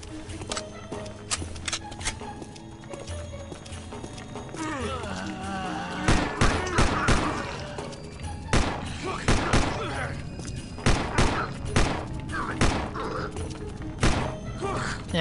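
Rapid rifle gunfire from the zombie shooter Land of the Dead, fired in repeated sharp bursts over the second half amid thuds and game noise, with someone talking over it.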